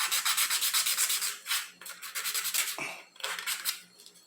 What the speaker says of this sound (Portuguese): A gente vai lixando, né, para deixar bem retinho